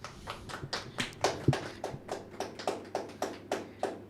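A small crew behind the camera claps in a steady, even rhythm, a run of sharp, quiet hand claps with no one speaking.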